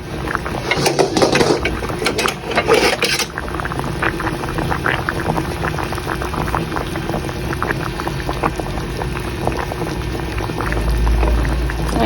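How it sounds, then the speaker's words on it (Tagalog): A pot of milkfish paksiw stew bubbles steadily on the stove, dense popping and gurgling continuing throughout, with a few faint clicks near the start. "Kumukulo na."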